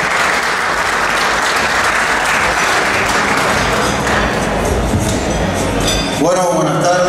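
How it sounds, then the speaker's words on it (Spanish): Sustained audience applause at a rural countryside festival with chorizo being served, dense and steady clapping for the whole stretch, with a brief voice and a clink of dishes near the end. "Así que pido un fuerte aplauso para eso."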